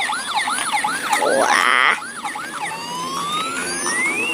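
An ambulance siren wails in repeated rising and falling sweeps, loud and fairly close, with a brief burst of other noise partway through and a short exclamation from a voice.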